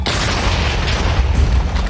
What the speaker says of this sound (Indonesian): Awalnya aku mikir itu ledakannya creeper.